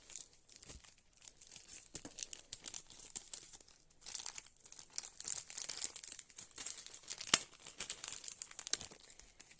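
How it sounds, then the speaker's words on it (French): Plastic parts bag marked E for a tool-free telescopic wardrobe being torn open, steady crinkling and crackling at close range with a few sharp snaps, no speech. "on va ouvrir le petit E, le paquet numéro E"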